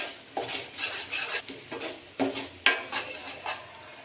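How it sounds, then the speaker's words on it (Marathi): Masala being sautéed and stirred in a pan for Katachi amti, with spoon scrapes and clinks against the pan recurring every half second or so over a soft background sizzle. "आपण जसजसा जसा मसाला परततोय तस तसा मसाल्याचा कलरही चेंज होतोय"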